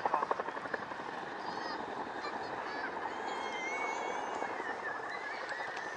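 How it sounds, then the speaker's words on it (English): An RAF Chinook twin-rotor helicopter flying a display quick stop gives a steady, heavy rotor drone with a fast blade thump at the start, heard from a distance at an outdoor air show. "This quick stop is incredibly difficult to fly, but Schmidt is very well practiced at doing"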